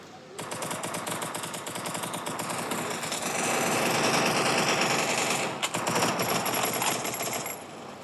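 Rapid automatic gunfire in the video game Free Fire crackles almost nonstop for several seconds, dense and loud, with a brief gap near the end before the bursts resume.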